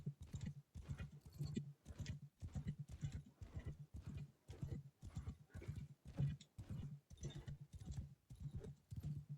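Horses in a video game trot and gallop with steady, repeating clip-clop hoofbeats throughout, close and fairly loud, with no neighing clearly standing out.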